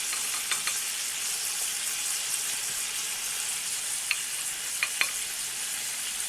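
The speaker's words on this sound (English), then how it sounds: "I will continue to lather these with butter" Rib eye steaks basted with butter sizzle in a hot pan with a steady, close crackle, broken by a few sharp spoon clinks and spatters, with no talking.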